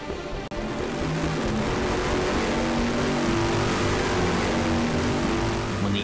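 A Bugatti Veyron's engine pulls hard at full power, producing a steady, loud, dense roar that holds without a break, with only one brief dip near the start.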